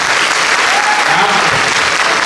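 A packed audience at a university gathering in Bahawalpur breaks into dense, sustained applause for Dr. Ehtesham Anwar, a loud continuous wash of clapping filling the room without pause.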